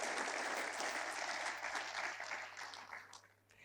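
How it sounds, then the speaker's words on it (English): Audience at a graduation ceremony claps in a thick, continuous burst that tapers off toward the end. "Please give them a big round of applause."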